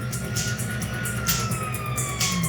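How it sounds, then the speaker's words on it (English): A police siren in the video game GTA 5 wails, sweeping steadily through the clip over a dense, busy background of engine rumble and clatter. "you hear that? Sirens!"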